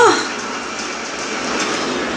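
A train rumbles along its rails in a movie teaser, a steady broadband roar that stays loud and continuous throughout, with a brief higher squeal right at the start.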